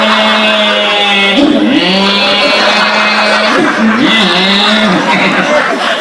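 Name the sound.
voice imitating a car braking and revving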